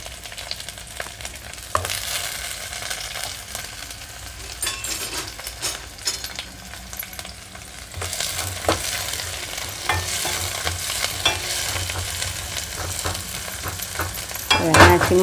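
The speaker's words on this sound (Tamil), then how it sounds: "வெங்காயத்தை போட்டு நல்லா வதக்கிக்குவோம்." Onions sauté in a pan after fenugreek seeds have fried, the base for a lake kendai fish curry: a continuous soft sizzle with occasional stirring scrapes and clinks that grows a little louder partway through.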